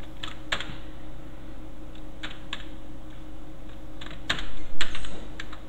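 Keys clack on a computer keyboard in short, irregular bursts of a few strokes separated by pauses, close and clear over a faint steady hum, no talking.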